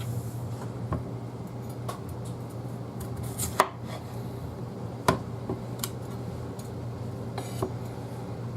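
Knife chopping food into rough chunks on a cutting board, a few sharp separate cuts at an unhurried irregular rhythm over a low steady kitchen hum.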